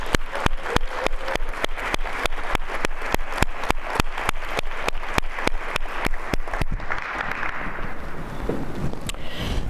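An audience gives sustained applause for school principals at a district event, dense clapping rising to a strong, steady roar that thins slightly toward the end, with no talk over it.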